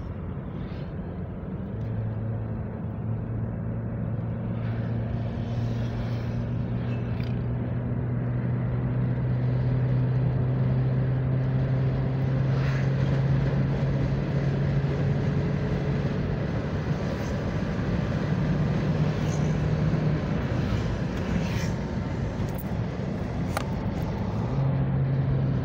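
A Honda Freed with an automatic transmission that had an oil leak, driven on a road test: a steady engine and road drone with a low tonal hum that rises and falls, continuous throughout with no talk.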